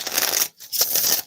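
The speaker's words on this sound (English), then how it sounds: "going to shuffle these real quick" Deck of tarot cards being shuffled, two quick riffling bursts of dense papery rustle close up, separated by a brief pause, with no talk.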